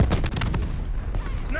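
Rapid gunfire bursts in a shooter video game, loud and close with a quick run of cracking shots at the start that fades into rumbling echoes as a voice begins.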